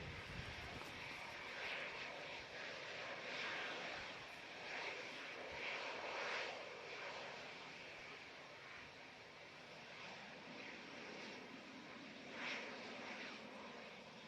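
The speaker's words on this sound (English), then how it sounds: "Epic performance once again from the mighty Emirates A380" Emirates Airbus A380 airliner roars steadily through its engines at Manchester Airport, a broad sustained rumble that swells and recedes slightly over the stretch, heard from a distance with no talking.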